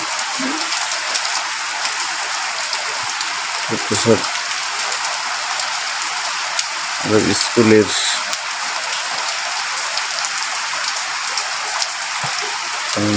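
Light first rain falls at night in Fatikchhari, a steady fine patter that stays continuous throughout, broken by a few short bursts of nearby talk.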